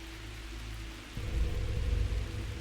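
Rain falls in the survival video game The Tribe Must Survive, a soft continuous patter over low rumbling ambience that grows fuller partway through, with no speech.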